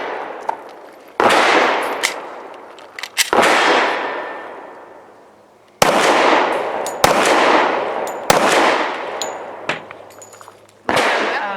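A S&W M&P 2.0 Compact .45 pistol firing 185-grain Legend Pro copper hollow points at a shooting range, with six sharp, loud shots spaced irregularly a second or more apart, each followed by a long decaying echo.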